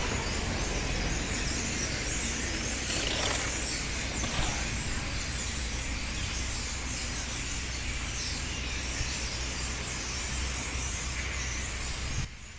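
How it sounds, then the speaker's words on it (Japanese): Beside a park in Bordeaux, a huge unseen flock of birds makes a dense, continuous wash of calling, steady and hissy throughout with no voices. "姿は見えないんですが、ものすごい量の鳥の鳴き声のようなものが聞こえてきます"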